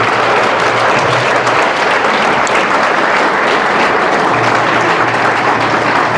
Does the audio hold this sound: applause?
yes